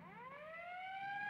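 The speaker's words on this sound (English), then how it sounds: "the police siren" A police siren from the film Touch of Evil, right after a dynamite explosion: a single steady wail climbing slowly in pitch, fairly loud and alone, with no talking over it.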